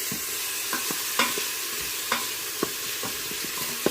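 Onions sautéing in a hot Instant Pot on its saute setting give a steady close sizzle, broken by several sharp stirring scrapes and clicks of a utensil against the inner pot.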